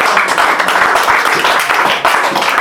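A church congregation claps loudly and continuously in praise of the Lord, dense applause close up and steady for the whole stretch.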